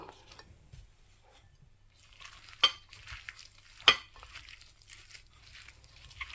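Red lentils and mustard oil go into a pan for masoor dal bhorta, producing a quiet sizzle that swells midway, punctuated by two sharp metallic clinks of a spoon against the pan, close by, with no talking.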